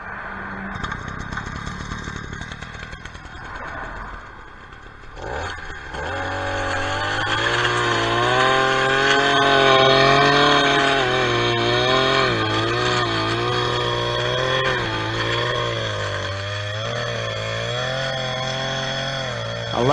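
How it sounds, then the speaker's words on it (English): A string trimmer with good torque cuts through thick brush. The motor revs up loud and close and holds a droning whine that wavers in pitch as it chews through the growth. Rougher rustling comes before it. "I like this trimmer. It has good torque, so it gets me through this thick stuff like this here."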